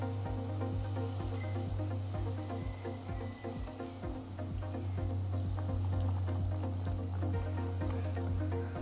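Fried pangas fish pieces dropped into a boiling curry gravy, producing a steady close bubbling and sizzling with small pops and a low continuous hum, without any talking.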